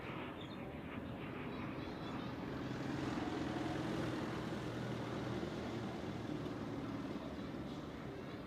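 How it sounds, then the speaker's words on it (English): A Qatar-registered jet at Zurich Airport on a foggy morning gives off a steady, distant engine rumble and low roar that holds at an even level throughout, with no voices. "I'm not sure whether it is Qatar Amiri, but it's certainly some Qatar aircraft"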